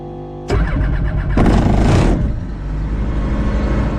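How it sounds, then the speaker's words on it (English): A Rotax 912is, the 100-horsepower FADEC engine of a JMB VL3 light aircraft, cranks and catches loudly up close, then settles into a steady, rumbling idle. "This one's powered by a Rotax 912is. That is the 100 horsepower FADEC engine."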